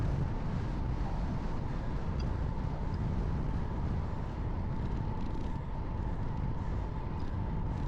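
Strong headwind rushes and buffets a microphone on a bicycle riding at speed, a continuous loud low roar with no talk.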